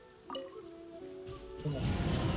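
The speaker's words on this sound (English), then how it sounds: "It always rains when I go on an adventure." Rain in the video game Genshin Impact starts up as a steady hiss of falling drops, swelling louder toward the end over faint tonal game music.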